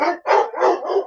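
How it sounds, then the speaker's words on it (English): Several dogs bark in close, loud bursts, four overlapping volleys in quick succession with no talk over them. "there's dogs"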